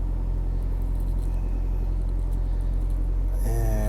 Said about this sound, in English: I'm sorry about that noise, it's the reefer unit.